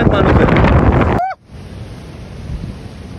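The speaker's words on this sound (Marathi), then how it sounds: "बेकार समुद्र खवलायला लागलाय" Rough monsoon sea surf at Malvan beach on the Konkan coast: a loud, broad roar of crashing waves and wind for about a second, then an abrupt cut to a quieter, steady wash.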